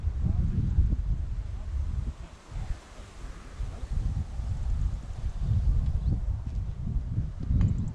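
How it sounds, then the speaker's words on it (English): Wind roars across a golf course at the Isle of Purbeck Golf Club, making a loud low rumble and buffeting against the microphone that rises and falls in gusts throughout. "The wind is howling"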